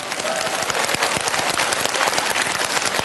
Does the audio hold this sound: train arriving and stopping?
no